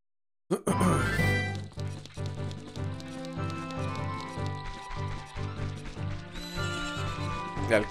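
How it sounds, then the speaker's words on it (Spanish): A horse in the Zelda Ocarina of Time video game lets out a loud whinny near the start, then clip-clop hoofbeats continue over a steady, rhythmic game soundtrack. "El caballo está por allá arriba"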